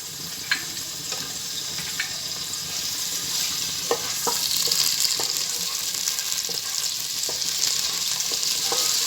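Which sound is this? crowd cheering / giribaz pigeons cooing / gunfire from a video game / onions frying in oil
onions frying in oil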